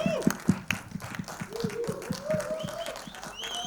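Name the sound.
audience applause for actor Naga Chaitanya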